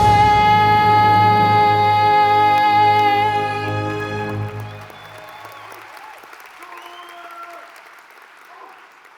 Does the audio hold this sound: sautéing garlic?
no